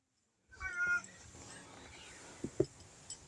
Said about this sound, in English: Don't Mind the Cat.